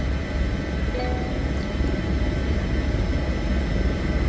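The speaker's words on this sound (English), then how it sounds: "get the helicopter ready to fly while it's coming up" An HPG Airbus H145 helicopter spools up during startup in Microsoft Flight Simulator 2024, a steady, dense low rumble with a broad hiss above it that holds at an even level throughout.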